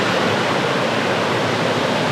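Floodwater from a storm rushes steadily down a river, a loud, constant broadband roar with no pauses.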